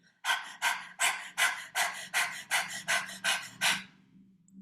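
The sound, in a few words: rapid panting breaths with tongue out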